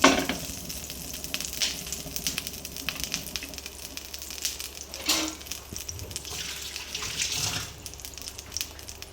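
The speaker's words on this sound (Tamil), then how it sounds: "ஊடால வந்து ஸ்டீ ஃப்ரை பண்ண போகிறோம் ஸ்டீ ஃப்ரைனா பட்டரில் வந்து ஊடால இது போடுறோம்" Prawns stir-frying in butter, a moderate crackling sizzle with clattering stirs and scrapes rising and falling in loudness, with no voices.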